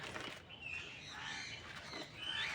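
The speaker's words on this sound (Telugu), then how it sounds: "ఇది బూడిద రంగు కాకటీల్ ఈ పక్షి" A grey cockatiel at a zoo gives several shrill, squawking calls at a moderate distance, separated by short pauses, with no talking.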